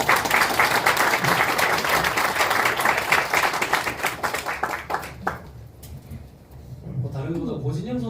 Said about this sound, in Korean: 다시 한번 큰 환영의 박수 드립니다.